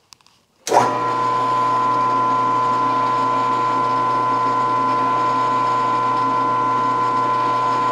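A milling machine with its belts set to about 400 RPM starts up after a short pause and then runs with a steady, loud mechanical hum and whine that holds unchanged to the end.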